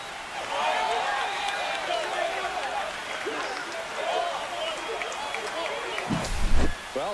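A stadium crowd in MLB The Show 25 cheers after a home run, a broad roar of applause and shouting that swells and then fades, with a sharper burst near the end.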